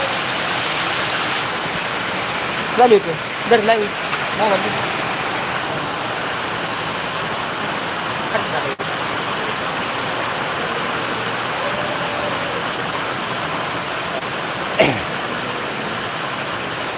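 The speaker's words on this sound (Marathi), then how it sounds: "पाऊस चालू झाला आहे" Heavy rain pours down in a village in Indapur taluka with water running, forming a constant loud rushing wash throughout. A few brief voices break in.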